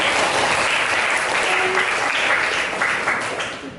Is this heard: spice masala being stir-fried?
no